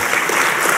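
Dense, steady applause from an audience at a political speech, a continuous wash of many hands clapping at once, loud and unbroken through the brief moment.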